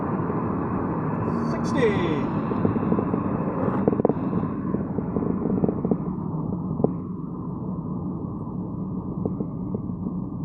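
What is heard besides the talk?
Citroen C4 Cactus accelerating at full throttle in third gear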